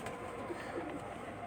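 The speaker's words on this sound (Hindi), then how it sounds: "ये लाल परी कबूतर है जी माशाल्लाह" Lal Pari pigeons coo softly from a rooftop loft, low murmuring calls faint under a background hum.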